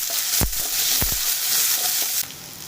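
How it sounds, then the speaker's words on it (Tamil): Mustard seeds, fennel, cumin and curry leaves crackling in hot oil, a loud dense sizzle with a few sharp pops over nearly three seconds. "கொஞ்சம் கடுகு, சோம்பு, சீரகம் எல்லாம் போட்டு தாளிச்சிருக்கேன்."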